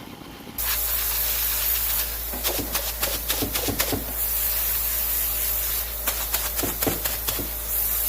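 An airbrush sprays paint over vinyl stencil work, a steady close hiss that starts abruptly and runs throughout, broken by brief louder bursts and clicks.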